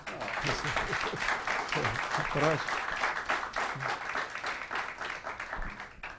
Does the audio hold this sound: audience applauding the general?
yes